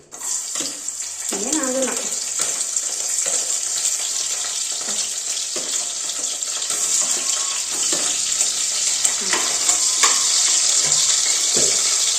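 Green chilli and ginger crackle and sizzle in hot oil in a pan, a steady hissing fry with faint pops running the whole way, close and fairly loud.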